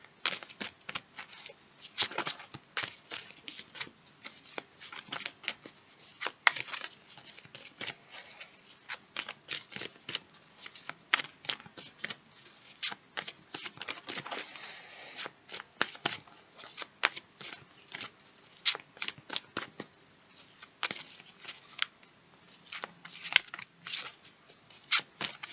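Tarot cards being shuffled steadily for a long stretch, a dense run of soft, quick riffling flicks and snaps with no talking over it.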